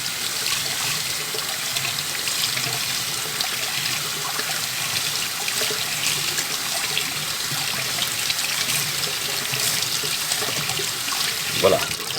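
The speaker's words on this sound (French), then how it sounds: "Bien rincé, j'insiste vraiment fortement sur le rinçage évidemment." Tap water runs steadily over germinating seeds being rinsed in a tray, a constant hissing flow with a brief louder splash near the end.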